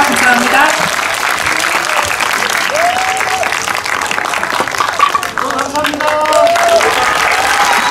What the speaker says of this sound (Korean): 세 분의 게스트께 다시 한번 큰 박수 부탁드립니다